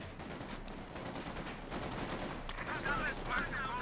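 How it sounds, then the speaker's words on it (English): Machine gun fire in the World War II strategy game Company of Heroes 2: rapid bursts of rattling shots at moderate loudness, under a commentator's voice. "Burst of fire going down that towards those Royal Engineers"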